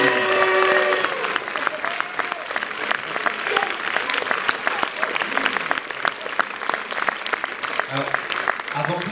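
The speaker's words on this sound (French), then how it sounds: "Et enfin, sous applaudissements," Audience applause at a cinema preview screening, a dense, steady wash of clapping filling the room for about nine seconds with scattered voices and cheers mixed in.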